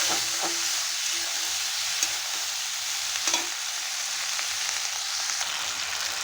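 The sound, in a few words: stir-frying helencha greens with turmeric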